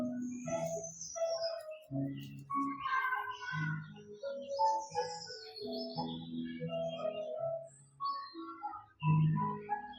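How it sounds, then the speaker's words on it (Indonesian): Birds chirp and tweet in a layered chorus, several calls overlapping in quick bursts throughout, moderately close and clear with no talk over them. "Dengarkan suara kicauan burung."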